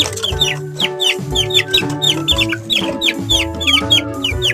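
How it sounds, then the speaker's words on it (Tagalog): A flock of chickens being fed, clucking loudly and busily close by, overlapping calls and squawks in a constant, agitated chatter. "Pakain tayo, guys, ng manok."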